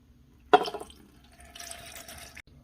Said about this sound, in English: Add a cup of water.